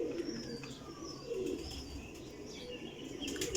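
Kasuri and other pigeons coo softly in a loft, repeated low murmuring calls with a few chirps and brief wing flutters, faint and fairly close.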